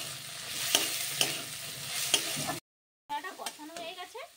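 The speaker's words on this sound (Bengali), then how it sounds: "এরপর দিয়ে দেবো জিরে গুঁড়ি পরিমাণ অনুযায়ী আর দিয়ে দেবো ধনে গুঁড়ি পরিমাণ অনুযায়ী, দিয়ে ভালো করে আবারও আমি কষিয়ে নেব।" Cumin and coriander powder are sautéed in a pan for a rohu fish and cauliflower curry. A close, steady sizzle is broken by three spoon knocks, then a short silent gap, then busier scraping and stirring.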